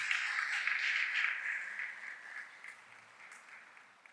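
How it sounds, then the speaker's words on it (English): Applause from the audience at a university graduation recognition ceremony swells loud at first, then gradually thins and fades as the clapping dies down. "Can we give all of our Pelicans a round of applause?"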